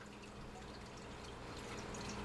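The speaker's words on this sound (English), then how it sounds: "the water flows into the bottle through the screen, filtering out the big particulates" Water from a bottle trickles steadily through the screen of a Steripen Sidewinder, a soft, continuous liquid hiss with faint drips, quiet and close.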